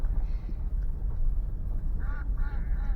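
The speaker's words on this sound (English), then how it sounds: "they have plenty of geese around here" Geese honking beside a roadside pond, a few short nasal calls clustered near the end over steady low rumble, moderately close.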